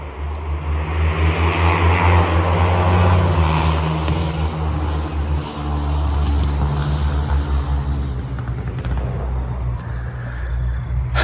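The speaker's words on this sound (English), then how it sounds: "You hear that? That's a dirt bike." A dirt bike engine drones loudly with a low rumble, swelling and fading slightly as it passes, steady throughout with no talking.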